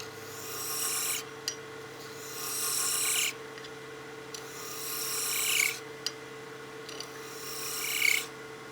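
Lathe tool cutting a honeycomb pen blank on a pen mandrel, starting from the bushing and working toward the middle: repeated rasping, scraping passes of a few seconds each, moderately close, with short pauses between cuts and no talk.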